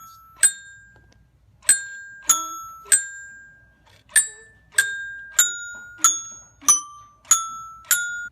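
A coding robot plays the Jingle Bells melody as a series of about twelve clear, bright electronic chime notes in the tune's rhythm, each ringing and decaying in an otherwise quiet room.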